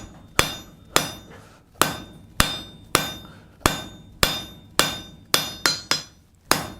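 Hammer blows ring out on hot steel while a door knocker boss is forged on an anvil, twelve sharp metallic strikes at a steady rhythm of about one per half second, each with a short bright ring, close and loud.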